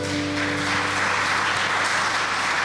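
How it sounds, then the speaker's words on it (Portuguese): A church congregation applauds in praise, a steady wash of many hands clapping at moderate volume over a low sustained tone, with no speech. "Dá uma salva de palmas ao Senhor"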